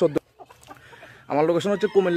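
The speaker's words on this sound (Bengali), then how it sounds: "একবারে গোল মুরগি, খুব সুন্দর একটা মুরগি মাশাআল্লাহ" A round-bodied Lal Kadam Ful chicken clucks close by in Cumilla, a short sharp note, then soft murmurs, then a louder burst of throaty clucks, with someone speaking nearby.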